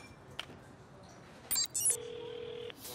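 Phone ringing with an incoming call in a cartoon scene, a steady electronic ring tone sounding alone after a few brief clicks and blips, fairly faint.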